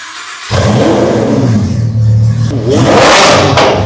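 Lamborghini Huracan twin-turbo supercar engine revs hard and loud from half a second in, a sustained deep roar with a rising surge near the end, close by.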